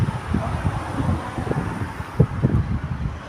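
Strong, cold wind at a farm buffets the microphone in a steady low roar, with heavier rumbling gusts coming and going throughout.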